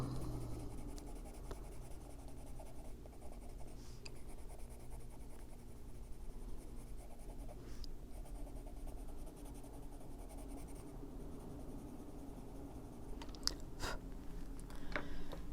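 Kalour colored pencil scratching steadily across paper in a continuous soft scraping texture, close and quiet, with occasional light taps and clicks near the end.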